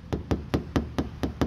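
Seven evenly spaced dull knocks on a used car's body panel over body filler, close and moderately loud, with a thudding, slightly muffled tone and no talking.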